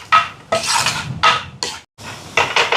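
Onions sautéing in a pan for soya meat biryani, with bursts of scraping and stirring clatter from a utensil against the pan, loud and close, pausing briefly before resuming.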